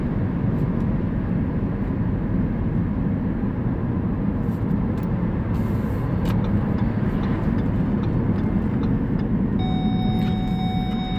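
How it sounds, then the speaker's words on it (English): An electric Ford Focus cruises down a road, heard from inside the cabin as a steady, loud low rumble of tire and road noise with a faint whine, no engine sound. "Car drives nice going down the road."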